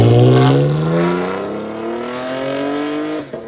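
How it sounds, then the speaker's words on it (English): Chevy Camaro V6 with true dual exhaust, high-flow cats, X-pipe, Dynomax Mini Bullet mufflers and rear delete revs loudly, the exhaust note climbing steadily in pitch before dropping off abruptly at the end. "Chevy Camaro, True Dual, High Flow Cats. X-Pipe, DYNOMAX Mini Bullets, 24-249s, rear delete,"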